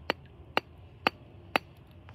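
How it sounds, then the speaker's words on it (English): A hammer strikes a plaster dig-it kit block to chip it open, delivering five sharp, evenly spaced knocks about half a second apart, close and distinct against a quiet background with no talking. "So, I got this, and I got this hammer."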